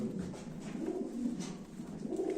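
Pigeons coo softly and continuously at a pigeon auction, low rolling calls overlapping in a gentle murmur, close but faint, with no voices.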